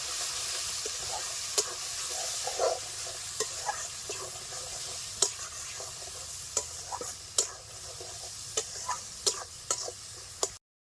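Spice paste (masala) for mutton curry sizzles steadily in a pan while a utensil stirs it, scraping and knocking the pan in irregular taps over the continuous frying hiss.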